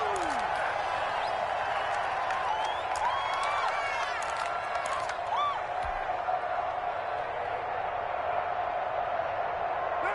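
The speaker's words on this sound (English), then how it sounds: "This crowd urging on their defense. They're up and making noise." A large crowd roaring in a football stadium during a Raiders at Jets game, a dense sustained wash of cheering and whistles from a distance, with a commentator talking over it.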